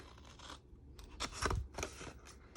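Scissors snip through paper while cutting out a doughnut treat box, with several close, crisp cuts in quick succession and no talking.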